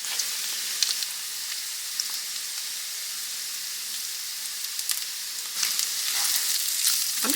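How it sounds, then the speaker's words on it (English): Jasmine rice with Creole seasoning sizzles and fries steadily in a frying pan, a constant bright hiss with faint scraping of a spoon stirring, rising slightly louder near the end, no talk. "I'm just going to stir that rice around in there and that seasoning, and I'm just going to let this cook for about another minute"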